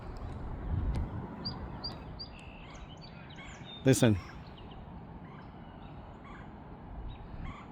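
A single short burst of duck-like calling rings out once, loud and close, against steady outdoor ambience on a nature walk in Minnesota, with a brief spoken word heard earlier.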